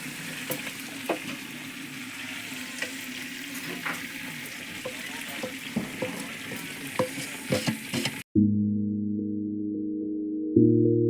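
Country chicken fries and sizzles in a clay pot over a wood fire, a continuous crackling hiss with soft stirring scrapes for about eight seconds, then a steady tonal hum takes over abruptly; no talk.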